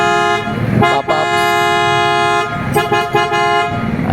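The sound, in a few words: newly bought car horn being tested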